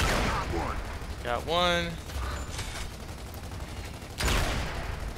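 Sniper rifle fire in the Gears of War 2 video game, a few sharp gunshot bursts at the start and again near the end, mixed with game sound effects, while a player speaks briefly.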